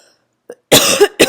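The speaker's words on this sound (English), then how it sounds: "I'm going to start coughing." One person indoors gives a sharp cough, preceded by a faint throat sound and followed by a brief second burst, close and loud in a quiet room.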